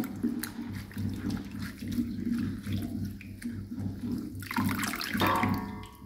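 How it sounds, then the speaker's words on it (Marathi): Radish greens being washed by hand in a bowl of water, a steady splashing and sloshing running throughout, close and moderately loud, with a brief sharper swish near the end. "आपण 2 ते 3 पाण्याने स्वच्छ धुवून घेऊया"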